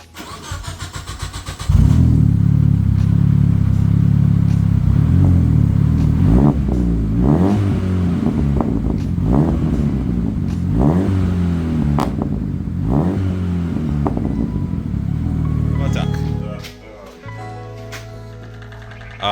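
A front-wheel-drive Mitsubishi Lancer with a turbocharged 4G15T engine and a new 3-inch Evo 7 exhaust starts up loudly, then revs repeatedly in rising and falling sweeps before settling back to a steady idle.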